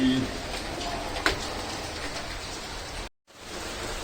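Heavy monsoon rain pours steadily as a continuous broadband hiss with a brief full dropout near the end; no voices are heard.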